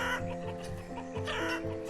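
Chickens cluck in the village-building game Banished, a run of short repeated clucks and soft fowl calls at moderate distance, overlapping in an uneven rhythm against faint background game sound.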